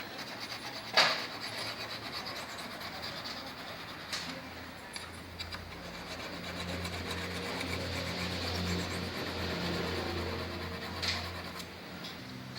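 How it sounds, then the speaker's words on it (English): A homemade knife ground from a broken hacksaw blade is stroked across a fine diamond sharpening stone, a faint, steady rasping scrape with a few sharp ticks from handling. "I'm going to continue with this other diamond stone, which is much smoother than this one."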